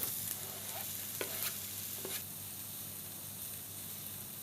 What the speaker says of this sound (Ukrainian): Додаю цибулю і обсмажую до золотистого кольору.